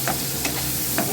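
Ridge gourd, potato and green chillies frying in oil, a steady dense sizzle with a few soft stirring scrapes, close and without voices.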